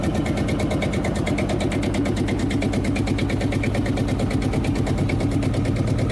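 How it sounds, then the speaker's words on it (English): A vintage Field Marshal single-cylinder diesel, the British engine of the late 1930s to early 1950s used in agricultural tractors and stationary power units, runs steadily with a rapid, even chugging thump throughout, close and loud with no voices. "The Field Marshal engine is a classic British single-cylinder diesel engine"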